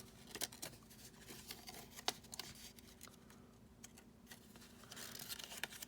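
Faint, close scissor snips and paper rustling as a pyramid net is cut out of paper, in irregular short bursts with quiet gaps.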